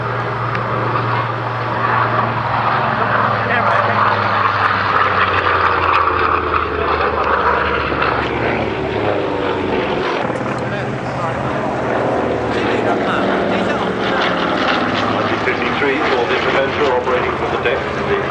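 A piston aircraft engine idles and warms up at Duxford, its cylinders slowly heating before takeoff. It gives a steady, rumbling propeller drone that swells slightly and holds, with a narrator speaking over it.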